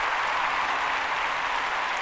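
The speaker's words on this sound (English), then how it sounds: "Applause, applause, applause." A crowd claps continuously and evenly, with dense steady applause throughout at a moderate level and no voices.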